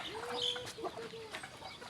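Farmyard chickens clucking in rural Thailand, brief scattered calls in the middle distance over a steady background hum, no talk.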